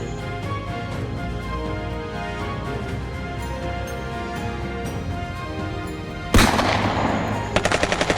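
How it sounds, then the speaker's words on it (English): Militia machine-gun fire rattles in sustained rapid bursts, loud and continuous, ending in a sharper, harsher volley of shots. "other militia members spotted William and opened fire"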